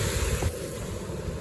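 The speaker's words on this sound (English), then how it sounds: "This is flash flooding right here. You can see how much mud is in that water." Muddy flash-flood water rushes through a culvert along an eroded hiking trail, a steady broadband roar close to the microphone, with wind buffeting over it.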